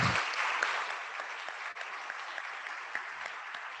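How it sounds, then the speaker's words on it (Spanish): Audience at an international congress applauding Dr. Deleo, a dense continuous patter of clapping from many hands that holds steady throughout and tapers slightly toward the end. "Un aplauso, por favor, para el doctor Deleo."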